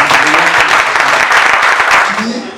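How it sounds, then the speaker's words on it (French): A crowd bursts into sustained, dense applause at a gathering, loud and close, holding steady for a couple of seconds before easing off slightly at the end. "Acclamez ici"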